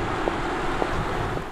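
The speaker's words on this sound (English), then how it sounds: "Just tire and wind noises." Tire and wind noise from an Audi R8 e-tron electric supercar with no added sound: a steady, fairly loud broadband road rush and wind roar with faint periodic thumps.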